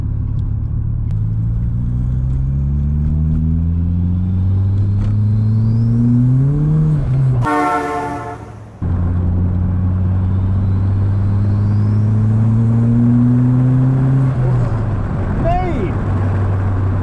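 An 1980s Renault 21 Turbo car accelerating hard through the gears, engine pitch climbing steadily, dropping sharply at a gear change and climbing again, loud and close from inside the cabin, with occupants talking over it.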